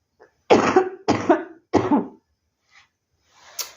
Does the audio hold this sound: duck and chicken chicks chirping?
no